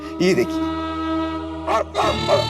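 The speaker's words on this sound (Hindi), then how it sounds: "वो डोरबेल में कुत्ते की आवाज है" A few sharp dog barks, clear and close, played by a doorbell, with a person speaking briefly in between; the barks sound electronic and repeat in short bursts.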